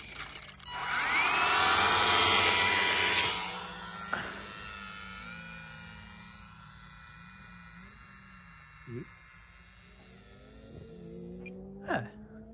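An electric motor on a B-17G UMX radio-controlled model airplane runs at full throttle as a loud, high whirring buzz for a few seconds, then winds down to a fainter hum. A few brief clicks and bumps follow.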